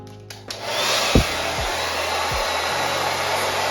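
A hair dryer fitted with a diffuser drying curly hair switches on with a click and then blows as a loud, steady whoosh with a constant motor hum, punctuated by a few soft bumps of handling.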